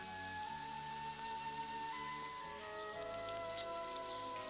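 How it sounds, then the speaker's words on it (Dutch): Rain falling in a street in Hoorn in 1987, a steady faint patter beneath tonal hum and background music lines, no talking. "Helaas, toen begon het te regenen."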